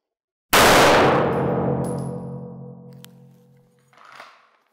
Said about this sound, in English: going to try to reach out and put one round in the head blind